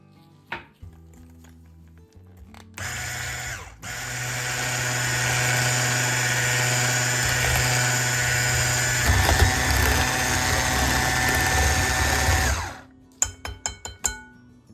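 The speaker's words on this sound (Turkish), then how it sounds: "2 yumurta, 1 su bardağı şeker ve 1 su bardağı sıvı yağını mikser yardımıyla şeker eriyene kadar çırpalım." An electric hand mixer whisks eggs, sugar and oil in a bowl, whirring loudly and steadily for about ten seconds with slight pitch shifts, framed by clicks and clatter of the beaters against the bowl before and after.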